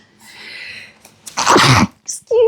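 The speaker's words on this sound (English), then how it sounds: "I sneezed right in that microphone." A single loud sneeze bursts out right into a microphone after a quiet breathy lead-in, followed by a short vocal reaction.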